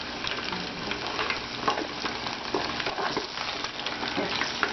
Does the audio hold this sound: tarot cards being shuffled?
no